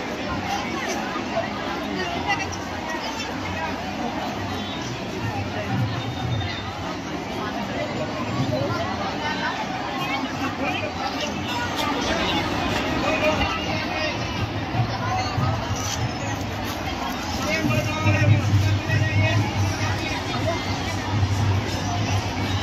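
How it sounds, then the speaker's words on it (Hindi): A thick crowd murmurs and chatters continuously at the Kanti Kothiya Mazar Sharif shrine in Bihar in 2023, overlapping voices and occasional shouts forming a steady, busy babble throughout. "इस वक्त काफी ज्यादा भीड़ है,"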